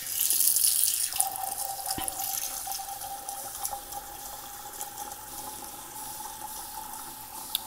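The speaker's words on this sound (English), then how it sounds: "And then I like to just add warm water." Warm water runs steadily from a tap into a sink or vessel while a liquid-culture mix for mushroom cultivation is prepared. The stream is close and continuous, with a brief knock near the start and an even rushing hiss throughout.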